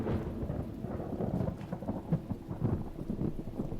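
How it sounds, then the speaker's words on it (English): Rumbling thunder with steady rain in The Talos Principle video game, a low continuous roll with a few louder swells, heard alone without talk. "Ah, not the thunder!"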